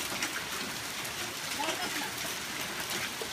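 Hail falling with rain outdoors in a spring storm, a constant broadband patter and hiss of pellets and drops hitting surfaces nearby, with faint voices under it.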